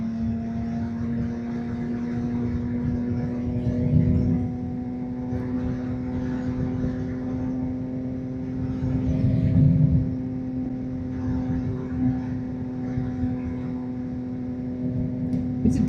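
A motorcycle rides steadily at speed, its engine a constant droning hum with a persistent low rumble of wind and road, picked up by an action camera with a clip-on mic and swelling slightly at moments.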